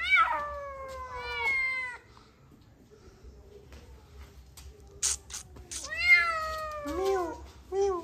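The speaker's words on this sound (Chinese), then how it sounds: "那只叫的好厉害哦" A cat among several newly acquired household cats meows loudly and repeatedly in long, wavering cries, first in a burst at the start and again near the end, with quieter background sounds in between.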